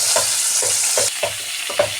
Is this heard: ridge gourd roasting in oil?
yes